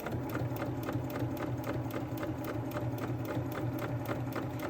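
A sewing machine stitches steadily across a heating pad hem, its needle clattering in a fast, even rhythm of regular ticks over a low motor hum, quiet and close with no talking.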